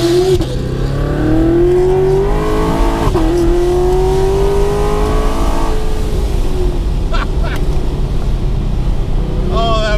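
A car fitted with a ProCharger supercharger accelerates hard from a standstill to 120, heard from inside as a loud, continuous engine roar whose pitch climbs and drops through gear changes over about ten seconds.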